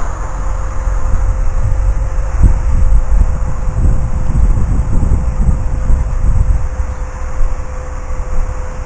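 Continuous rough wind buffeting and rumble around a Syma X3 Pioneer toy quadcopter in flight, loud and steady, with a thin constant motor whine running underneath.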